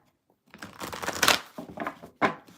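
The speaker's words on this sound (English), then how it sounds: "Shuffle, shuffle." Tarot cards being shuffled by hand, a quiet pause then crisp riffling and shuffling bursts, close and fairly soft, with no talk.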